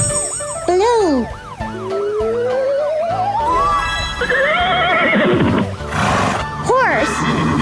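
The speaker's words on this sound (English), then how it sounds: "Horse." A horse neighs in a loud, whinnying call, mixed with sliding tones and a busy musical backdrop, close and prominent.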